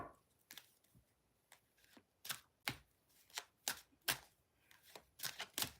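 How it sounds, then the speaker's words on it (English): A deck of tarot cards being shuffled indoors: a run of crisp riffling bursts, a few isolated at first and then coming faster and denser toward the end, close and fairly quiet with no talking. "I've been shuffling this deck"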